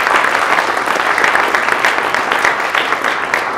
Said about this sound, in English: let's have a brief round of applause for our panelists